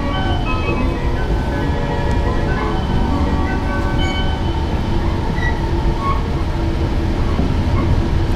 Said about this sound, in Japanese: ここから容赦なく東北新幹線は加速をしていきます